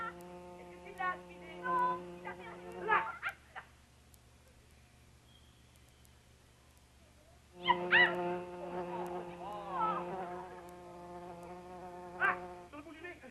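A housefly buzzes in two sustained, droning bursts, the first for about three seconds and the second for about five, separated by a quiet gap.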